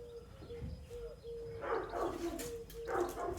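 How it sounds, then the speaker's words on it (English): Household dogs bark somewhere else in the house during a watercolour painting session. The barks and yips are faint and distant and come in short bursts over a steady background hum. "Oh, my dogs are barking at."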